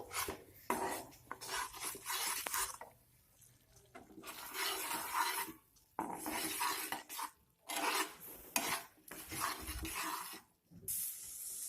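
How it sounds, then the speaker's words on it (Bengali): Salt being stirred into a prawn malaikari masala in a pan, a spoon scraping and rubbing across the pan in repeated loud strokes broken by short pauses. "অল্প পরিমাণেই দিলাম দিয়ে মিশিয়ে নিচ্ছি"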